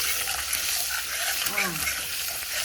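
Eggs frying in a pan with a ladle, a loud, steady hissing sizzle close by with occasional scraping strokes and a brief faint voice-like sound in the background.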